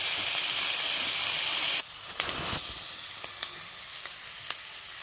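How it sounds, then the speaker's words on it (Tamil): Loud, steady sizzle of tomato, garlic, large onion and curry leaves sautéing in two spoons of oil for a fish curry, dropping to a softer hiss with a few stirring clicks. "தக்காளி, பூண்டு, பெரிய வெங்காயம் 1, 2 தக்காளி, கருவேப்பிலை எல்லாம் போட்டு எண்ணெய் 2 ஸ்பூன் ஊற்றி வதக்குறாங்க"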